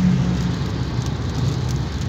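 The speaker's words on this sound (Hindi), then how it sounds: "गाड़ी के शीशे पे देखें, बारिश हो रही है" Steady, dense rain patters on a car's windshield during heavy rain on Makkah's 4th Ring Road, a constant hiss over a low engine rumble inside the vehicle.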